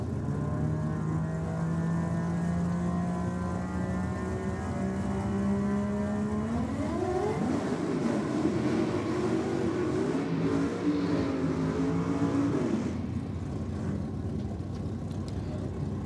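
A 20B rotary RX2 Coupe and a 454 Chev HQ at a drag race day, their engines droning as a steady held tone that climbs sharply midway and then holds high before cutting off, under commentator talk.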